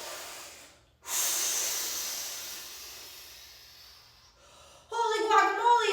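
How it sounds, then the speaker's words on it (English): A long, deep breath is drawn in during a children's yoga story session, making a soft hissing inhale that lasts about three seconds. Spoken voices follow right after. "Deep breath in."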